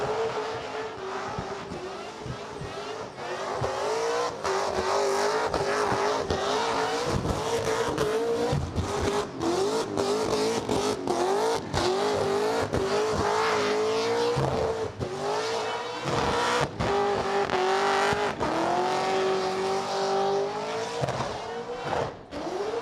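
A Holden Commodore engine revs hard and bounces off the limiter during a long burnout at the Summernats car festival, tires squealing continuously until running on rims, loud and close throughout.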